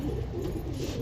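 Pigeons in a loft make soft, low throaty coos close by, a brief murmuring rumble with no talking.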